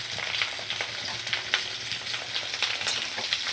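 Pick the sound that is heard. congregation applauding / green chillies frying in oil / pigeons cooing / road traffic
green chillies frying in oil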